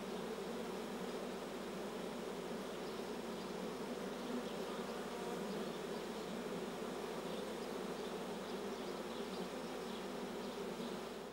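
Honeybees produce a dense, continuous buzz, a steady swarm drone that holds evenly throughout with no pauses and no voices.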